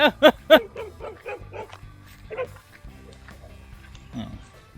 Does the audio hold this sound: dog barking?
yes